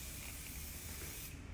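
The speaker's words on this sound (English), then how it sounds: "use the zero G gravity spray because it's like a workable spray" Continuous aerosol hairspray hissing close up onto styled hair, a steady even spray holding for about a second and a half before tapering at the end.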